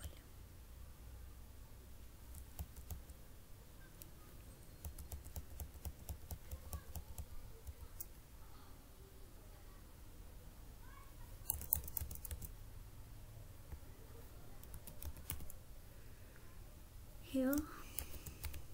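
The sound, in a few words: typing on a computer keyboard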